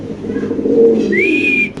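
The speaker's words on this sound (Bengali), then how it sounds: "তো এখানে আছে এক পেয়ার কবুতর" A fancy pigeon gives a single close, loud, rolling coo lasting under two seconds, rising into a higher drawn-out tone at the end.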